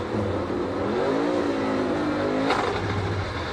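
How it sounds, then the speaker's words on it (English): A NASCAR Cup Series race car at Kansas Speedway revving hard with a faulty clutch, its engine note rising and sweeping up in pitch, then a sharp clunk as first gear is forced, followed by a steady idle. "he revved the engine up and just shoved it as hard as he could into first gear"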